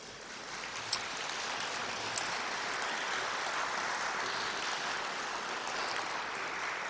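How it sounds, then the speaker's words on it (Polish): Steady, dense applause from a concert audience fills the whole stretch, celebrating the winners of a literary contest at a Pope John Paul II centenary concert, with a couple of sharp claps standing out near the start. "Serdeczne brawa dla zwycięzców."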